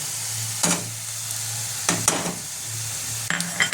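Spices and fish masala sizzle steadily in a pan, with a few sharp scrapes of a spoon stirring at intervals against the constant frying hiss.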